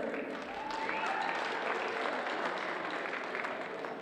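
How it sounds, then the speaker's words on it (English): Applause from a school holiday assembly audience, steady mid-level clapping filling the hall for a Christmas sweater entry, with voices and chatter mixed underneath throughout. "Round of applause."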